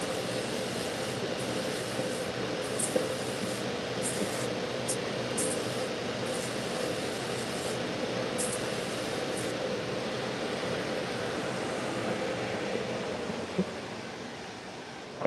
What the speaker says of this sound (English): Let me grind this down a little bit right here on this side.